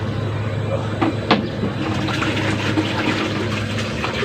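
Rice water for homemade organic NPK fertilizer is poured in a steady, close, splashing stream that runs without a break throughout.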